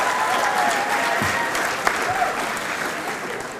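Steady applause from a large crowd at a 2000 high school graduation ceremony, a dense continuous patter of many hands clapping that holds evenly throughout without a break.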